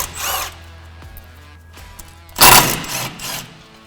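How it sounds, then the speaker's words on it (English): Bolts on a truck's front-end dust shield are spun out with a power tool near the ball joints, a short whirring burst near the start and a louder, harsher burst later, with no talking. "So I'm going to remove these 3 bolts here."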